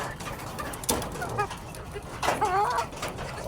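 A Boston Cross Sweater Gilmore stag gamecock clucks and calls outdoors at a moderate distance, with other birds chirping and clucking nearby and faint background noise.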